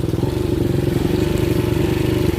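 Motorcycles ride over a rough, freshly filled riverbank road in Garay, Angat, Bulacan, their mid-pitched engines droning steadily and close with a continuous rumbling clatter and no talk.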